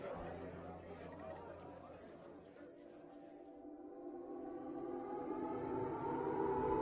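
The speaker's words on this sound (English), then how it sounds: "Suddenly sirens wailed." Sirens wail steadily, rising in pitch and growing louder over the background, with a crowd murmuring underneath; an air-raid pre-alert in Magdeburg, 1945.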